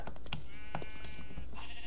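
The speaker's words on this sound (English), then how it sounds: "There's many sheep!" A sheep bleats once in a wavering, drawn-out cry in RLCraft, a Minecraft modpack, surrounded by clicks and game sound effects with a constant background hum.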